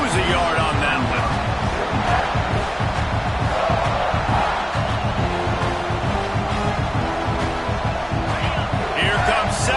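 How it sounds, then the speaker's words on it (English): Stadium football crowd roaring continuously, a dense loud wall of cheering and shouting that holds steady throughout, with a commentator talking over it. "this crowd is turning it up a notch"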